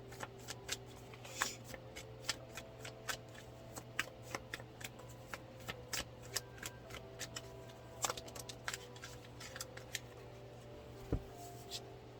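Cards being shuffled with quick, crisp riffling clicks repeating in bursts over a quiet room hum.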